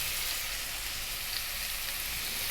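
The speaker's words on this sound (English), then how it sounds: "it's at this point we're going to drop in the onion." Onion dropped into a pan of sizzling beef for beef and broccoli, giving a loud, dense, continuous frying hiss close by that holds steady throughout.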